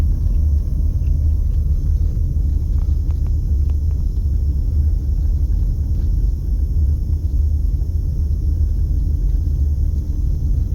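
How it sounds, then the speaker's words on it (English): Strong wind rumbles steadily as storm outflow arrives over North Las Vegas, a loud continuous low buffeting roar with no breaks. "It looks like the winds are starting to pick up here as the outflow from the storm's about to hit us."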